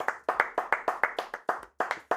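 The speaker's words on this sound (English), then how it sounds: "Let's clap it up to Bill" A small group clapping for Bill on a live Giants news show, a quick uneven run of close, sharp handclaps with short gaps, no talking.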